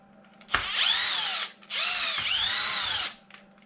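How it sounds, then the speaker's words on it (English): Two bursts of a power drill whirring, about one and three-quarter seconds and one and a half seconds long, unbolting body mounts on a Traxxas XRT RC truck, close and loud with no talking. "I have to unbolt these body mounts"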